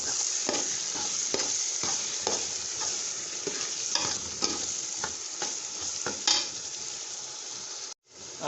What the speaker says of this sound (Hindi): अब जी शामिल करेंगे अदरक और लहसुन का पेस्ट। इसको जी भून लेंगे थोड़ा सा।